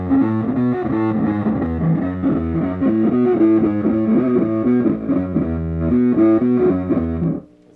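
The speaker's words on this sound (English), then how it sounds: "what I have this as right now is just a bassy fuzz" A bass guitar on a pedalboard runs through a bassy fuzz pedal, playing a repeating, rhythmic riff with thick, saturated low tones that stops abruptly at the end.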